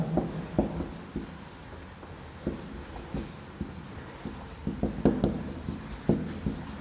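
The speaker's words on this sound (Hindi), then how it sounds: "यहाँ पे लिखना पड़ेगा" Chalk or marker writes on a board in short scratchy strokes and taps, quiet and close, with irregular bursts of rubbing during a lesson.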